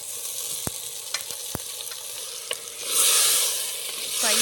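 Chicken pieces sizzle and fry in a pan during village-style outdoor cooking, a steady hiss broken by a few sharp clicks and pops early on, then swelling into louder, denser sizzling near the end.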